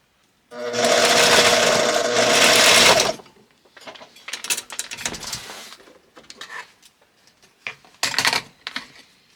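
A sewing machine stitches a French seam on classic armrest upholstery, running in a loud, fast, steady burst for about two seconds, followed by quieter handling clicks and rustles of fabric.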